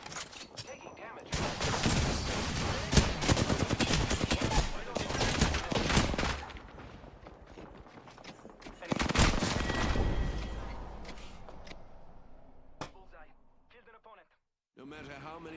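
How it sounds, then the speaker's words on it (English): Enemy gunfire in an online shooter video game, loud sustained bursts of automatic fire in two long waves with pauses between, with a player talking over the shooting. "Oh, they're shooting at me."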